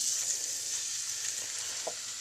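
A big piece of meat sears in olive oil in a pan, giving a loud, continuous, crackling sizzle with small pops throughout.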